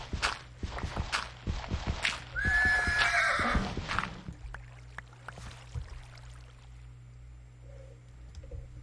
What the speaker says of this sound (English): This poor horse is gonna die now because of us.